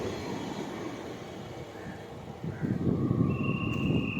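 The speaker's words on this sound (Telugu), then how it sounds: "ఇక్కడ ఈ ట్రైన్ ఆగలేదు" A train rumbles through a very small railway station at Narsipuram without stopping, a steady broad roar of wheels on rails that swells louder toward the end, with a thin high whine riding over it; no one speaks.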